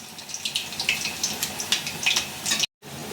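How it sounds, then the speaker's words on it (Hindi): Cauliflower pakoras frying in hot oil, a steady bright crackle and sizzle with small pops, close and continuous, briefly cut to silence near the end. "पलट पलट के हम चारों तरफ से इसे फ्राई कर लेंगे"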